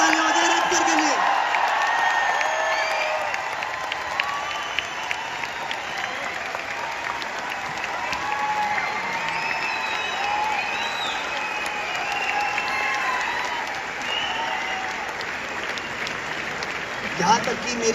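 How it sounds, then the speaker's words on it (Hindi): A large audience at a success-day event in Delhi applauds loudly and steadily for a speaker, with scattered whoops, whistles and shouting voices mixed into the sustained roar of clapping. "एक बार जोरदार तालियां हो जाए रैप सर के लिए।"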